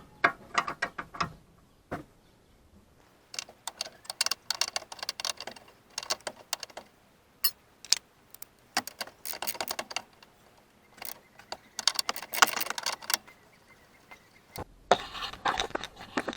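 A hand ratchet loosens an anti-roll bar link bolt on a Passat B5, giving close, quick bursts of clicking separated by short pauses, with no voices.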